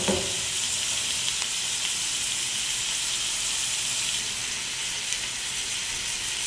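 Shrimp sizzling in a pan for garlic shrimp, a steady, even frying hiss close up and continuous throughout, with no talking.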